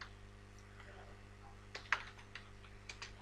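Fingers type code on a computer keyboard in a quiet room, a handful of soft, irregular key clicks heard up close.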